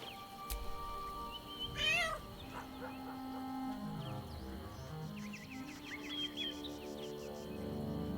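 A cat in the video game Baldur's Gate 3 meows clearly with a rising, wavering call near the start, over a steady game soundscape with faint chirps and ambient tones.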